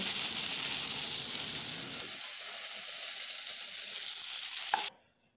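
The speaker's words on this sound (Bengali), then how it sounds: "আমি ভালো করে করমচাগুলো 2 থেকে 3 মিনিট এভাবে সুন্দর করে ভেজে নেব।" Karamcha fruits fry in a pan with a loud, dense sizzle that drops to a quieter hiss after a couple of seconds, then cuts off abruptly after a brief clink near the end.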